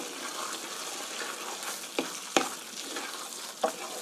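Steady frying sizzle of frozen chives stir-fried in a pan, with a few sharp clicks and scrapes as the food is stirred, fairly quiet.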